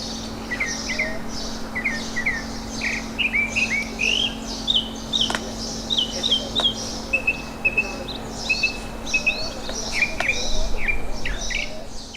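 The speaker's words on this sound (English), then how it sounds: "The northern mockingbird, the official state bird of Texas." A northern mockingbird sings outdoors in Texas, a run of varied short chirps and trilled phrases repeated in quick succession, fairly clear over a steady insect drone and background hum.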